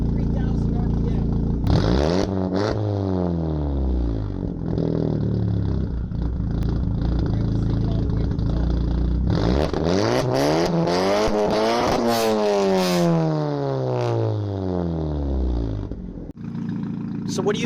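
Big-turbo Audi B5 A4 with a newly fitted exhaust, revved hard several times with sweeping rises and falls between steady idle, loud and close, with a voice speaking over it.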